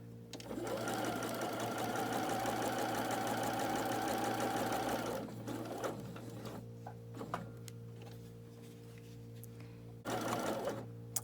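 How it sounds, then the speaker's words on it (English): Domestic sewing machine stitching fabric pieces for a quilt row sampler, a fast, steady mechanical whir-and-tick running for about five seconds, then stopping and restarting in short bursts, close and fairly quiet. "So I'm going to go ahead and sew all 6 of these on."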